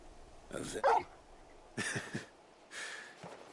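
A dog in the Final Fantasy XVI video game gives a few short barks and yips in close succession, fairly close and clear, followed by softer panting and whimpering sounds.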